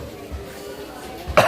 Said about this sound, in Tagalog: Ubo po si tatay.